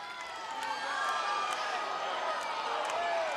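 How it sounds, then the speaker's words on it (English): A college softball crowd, Alabama against Auburn, murmurs and rises in a steady swell of disapproval at an umpire's call, with a commentator talking over it. "Crowd didn't care for that call."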